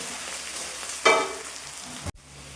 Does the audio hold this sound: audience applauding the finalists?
no